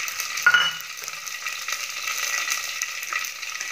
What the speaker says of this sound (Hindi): ये देखिए राई को अच्छे से तड़का लग रहा है।